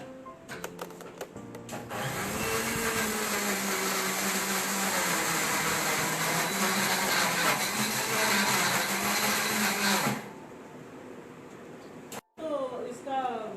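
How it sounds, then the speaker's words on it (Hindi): A kitchen mixer grinder runs loud and close for about eight seconds, a steady broadband whir with a rough, churning texture as cooking ingredients are ground, then cuts off abruptly; brief voices and handling noises frame it before and after. "अब हम इसको ग्राइंड करेंगे।"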